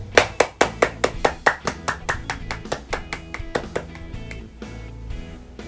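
A church congregation claps hands in a quick, even rhythm, a run of bright crisp claps that softens and thins toward the end as a faint musical tone lingers underneath.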